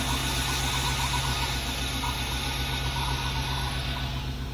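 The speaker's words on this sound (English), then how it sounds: "This thing's idling good now." A 1989 four-wheel-drive Chevrolet Suburban engine idling close by, a steady low rumble with a constant hum and a faint hiss on top, running evenly with no revving.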